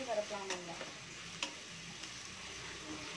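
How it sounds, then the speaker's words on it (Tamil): Onion and tomato fry in a pan with ginger garlic paste for a hotel-style veg biryani. A quiet, steady sizzle runs under a few scraping stirs near the start and middle. "ஃப்ரை பண்ணி எடுத்துக்கலாம்."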